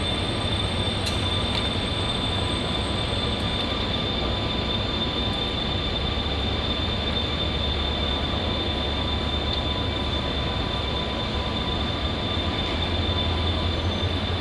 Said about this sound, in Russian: Соответственно, вот сами поезда.